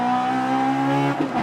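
A turbocharged K20 Honda Civic and a naturally aspirated K20 Suzuki Swift accelerate side by side. A loud, high engine wail climbs steadily in pitch, then briefly drops near the end as a gear shifts.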